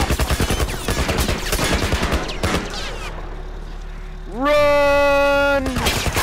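Rapid gunfire in The Last of Us Remastered: a loud burst of fast, closely spaced shots, then a quieter lull, followed by a sustained high ringing tone, with a voice speaking briefly.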